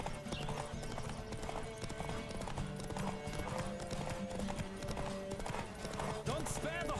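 In The Witcher 3: Wild Hunt, a ridden horse's hooves clip-clop in a quick, steady rhythm over a continuous bed of game music, with a character's voice speaking over the riding.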